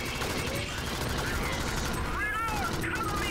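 Steady, continuous gunfire in the video game Alien Swarm as players shoot at an attacking swarm, layered with game effects and sustained at an even level throughout.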